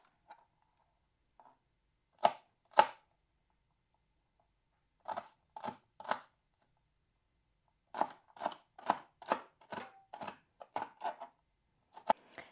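A knife dices hot peppers on a cutting board, making sharp, close chopping knocks in short bursts: a pair, then a cluster of three, then a quick run of about nine, with silent gaps between.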